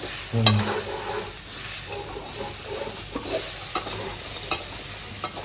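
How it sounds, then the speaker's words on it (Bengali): Crispy corn being tossed and stirred in a hot pan, with a soft sizzle and a few sharp scraping clicks from the utensil. "এবার আমরা এখানে ঢেলে দেবো ঢেলে দেবো ক্রিস্পি কর্নগুলো"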